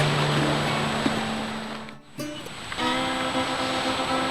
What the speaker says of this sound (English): Very typical creek.